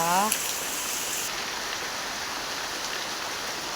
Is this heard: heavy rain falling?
yes